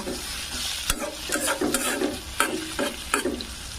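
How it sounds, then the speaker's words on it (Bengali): Taro stolons fry in a pan for a Bengali kochur loti bhaja while a utensil stirs them, several sharp scraping strokes over a soft sizzle, close and alone with no talk. "ঢাকনা খুলব, ভালোভাবে নেড়ে দিব।"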